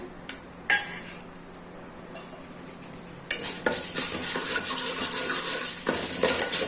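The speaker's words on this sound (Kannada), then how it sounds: "ಸಾಸಿವೆ ಚೆನ್ನಾಗಿ ಚಟಪಟ ಅಂತ ಸಿಡಿತಾ ಇದೆ" Mustard seeds splutter and crackle in hot oil for tempering, with roasted green gram added, scattered pops building into a louder, continuous sizzle near the end, under faint clinks.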